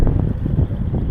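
Strong wind gusts buffet the microphone beside a fishing lake at Harrier Lake, Illinois, a steady low roar with rumbling bursts throughout and no talk.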